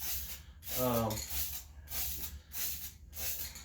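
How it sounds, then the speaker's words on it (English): Repeated hissing bursts of an aerosol spray, several short sprays in a row, with a voice speaking briefly over one of them. "I'm spraying"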